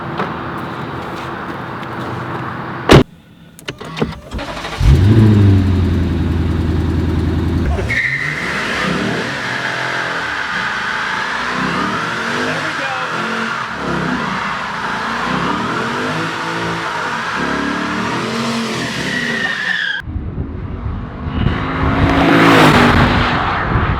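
A stock Lexus ISF's engine barks and revs hard after a sharp start, then roars through a long stretch of acceleration with tires squealing, cutting off abruptly before a final burst of noise.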